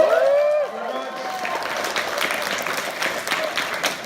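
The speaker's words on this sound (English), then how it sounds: "So everyone just clap and cheer like we had a great panel." Convention audience at an anime panel for the Kill la Kill game clapping and cheering as the panel ends, a crowd burst rising after a brief voice and sustained through to the close.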